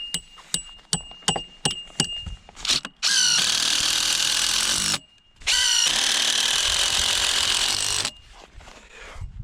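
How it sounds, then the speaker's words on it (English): Power drill driving screws into a greenhouse frame: a few clicks and knocks, then two long, loud whining drill runs separated by a brief pause, followed by quieter handling sounds. "I'll just have you come push and I'll screw this."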